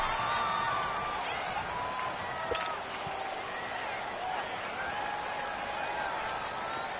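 Crowd noise fills a stadium in a football video game as a steady, distant wash of cheering and murmur, with one brief sharp click partway through.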